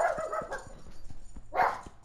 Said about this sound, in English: And my dogs, of course, gotta bark.